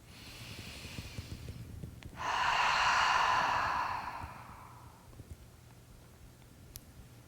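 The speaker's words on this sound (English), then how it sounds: "Take a breath." A single deep, slow exhalation during a muscle relaxation exercise, a soft breathy rush lasting about three seconds that fades away, heard close and alone against faint room hiss.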